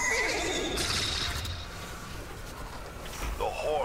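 A horse whinnies in the video game Destiny 2 over a steady game-like background rumble, with a second rising neigh near the end.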